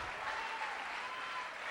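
A church congregation applauds steadily, a dense, even patter of clapping at moderate distance with no pauses.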